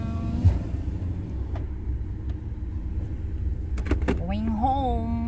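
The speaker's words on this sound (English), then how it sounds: "Okay, I'm driving now." A car drives home from grocery shopping, with a steady low road and engine rumble throughout and a brief voice-like tonal sound rising near the end.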